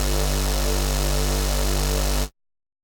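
Square-wave synth bass sustained as one continuous, loud tone under a buzzy distorted wavetable layer, ringing steadily for a little over two seconds before cutting off abruptly into silence.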